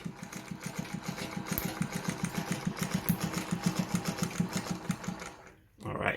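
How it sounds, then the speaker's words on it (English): A Phoenix model 228 sewing machine stitches steadily at a fast, even rhythm for about five seconds, close and clear, then stops briefly before a short restart near the end. "So I'll quickly thread the needle and do some stitches with the machine."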